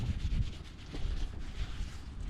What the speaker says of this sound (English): the WD-40 works really good right here on the solar panel. And I'm just cleaning around here too